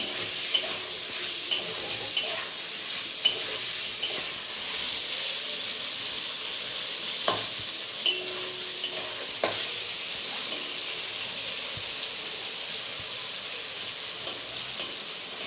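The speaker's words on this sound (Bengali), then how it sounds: "এবার খালি নাড়াচাড়া করতে হবে যাতে পটল রস থাকে না। পটলটাকে ভালো করে কষতে হবে।" Pointed gourd (potol) stirred and fried in a pan, a steady soft sizzle under repeated scraping taps of a spatula at irregular intervals, close by, with no voices.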